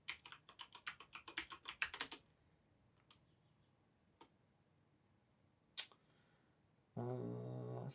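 A computer keyboard clatters with a quick run of close key taps, then a few isolated clicks across a quiet stretch, before a steady tonal hum comes in at the end.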